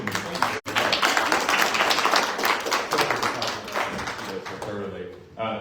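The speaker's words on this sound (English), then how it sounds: "Let's give another round of applause to Tiffany." An audience at a community town hall meeting in Hickory, North Carolina claps in a dense, sustained round of applause that fades out near the end.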